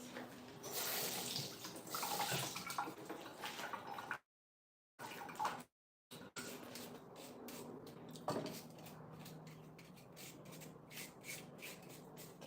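Tap water running while carrots and beets are washed at a sink for juice, a steady rushing and rubbing wash with two brief breaks, fairly faint and without talk.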